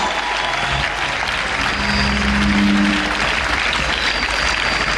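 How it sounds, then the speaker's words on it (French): A church congregation applauding, a dense, sustained wash of clapping from a crowd that stays loud and even throughout, with a few faint tonal sounds from the room beneath it. "Sous vos ovations, vous pouvez acclamer le Seigneur pour la vie du pasteur M. Wadja"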